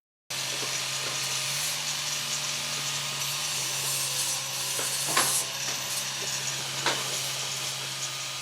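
A grinding wheel works leftover wood for carving, giving a steady close whirring hiss with a low hum beneath and a few sharper scraping bursts.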